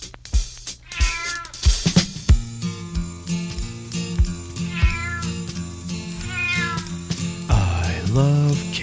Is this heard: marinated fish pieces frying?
no